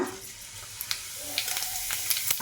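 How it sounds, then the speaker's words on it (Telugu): Cumin seeds and other tempering spices sizzling and crackling in hot oil, a bright steady hiss with a few small pops, close by. "పోపు వేసుకుందాం ఇప్పుడు"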